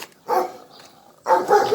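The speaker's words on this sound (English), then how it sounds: "Oh, we got K-9s over here." Police K-9 dogs barking in two loud bursts, a short bark early and a stronger cluster of barks near the end, with quieter ambient sound between.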